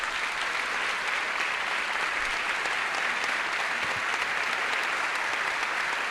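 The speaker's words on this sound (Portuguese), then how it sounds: "e sonoro aplauso das centenas de pessoas presentes no grande auditório da Fundação Calouste Gulbenkian." Hundreds of people in the large auditorium of the Fundação Calouste Gulbenkian in Lisbon give long, loud applause, a thick continuous roar of clapping that stays steady throughout, with no voices.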